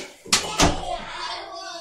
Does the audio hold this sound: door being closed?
yes